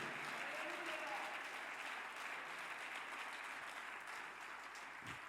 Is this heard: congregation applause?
yes